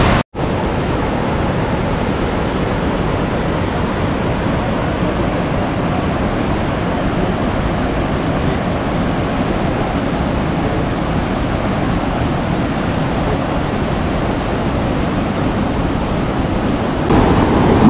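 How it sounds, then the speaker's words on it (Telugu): Water from the open gates of the Pavana lake dam rushes down in a loud, continuous roar, a dense steady wash with no pauses and no voices. "అందుకు గేట్ ఓపెన్ చేశారు. వాటర్ ఫ్లో మొత్తం కిందికి రా వెళ్ళిపోతుంది"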